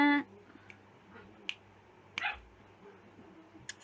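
Dogs bark faintly in the distance with a few short, scattered yips and barks. Quiet stretches come between them, and a brief louder sound opens the clip.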